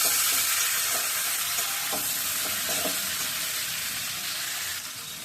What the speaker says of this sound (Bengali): একটু নেড়ে ছেড়ে একটু ভেজে নিব।